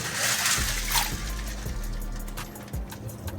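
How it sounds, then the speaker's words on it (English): Water is poured off dried peas soaking in a pot for Jamaican stew peas, a close splashing, trickling stream with a few small knocks and splatters. "Just pour the water off."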